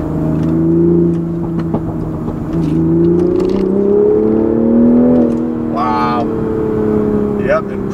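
A 2020 Toyota GR Supra's straight-six pulls hard through the gears, a loud, rising engine drone heard from inside the car with a brief shift dip, while a person speaks over it.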